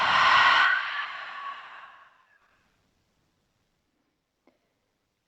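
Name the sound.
exhaling breath out through the mouth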